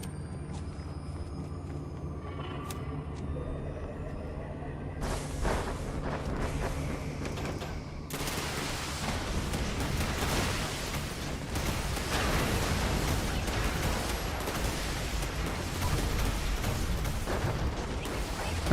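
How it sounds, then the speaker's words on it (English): Missile strike explosions crash down in the Fallout 76 video game, a dense, sustained barrage of booms and rumbling impacts that swells after a quieter, creaking start and stays loud to the end. "Expect missile strikes from above."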